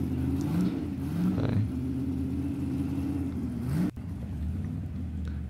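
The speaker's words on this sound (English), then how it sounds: "I heard them starting up an engine." A race car engine in the Supercars support paddock at the Adelaide 500 starts and revs, heard from some distance as a steady mid-pitched drone with rising and falling revs and no talk.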